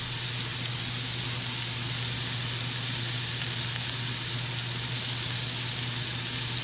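Hamburger patties seasoned with seasoning salt sizzle in a cast iron skillet, a steady, even hiss that runs unbroken throughout, with a low hum underneath and no talking.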